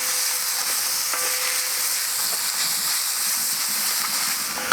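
Vegetables with bamboo shoots sizzle loudly and steadily in a hot pan on a Kamado Joe Classic II grill, with a few light scraping clicks of stirring breaking through the constant hiss.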